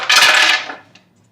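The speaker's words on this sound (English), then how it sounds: "half a cup of almonds goes into the blender" A quick rattling pour of half a cup of almonds clattering into a blender, loud and brief, then trailing off into near silence.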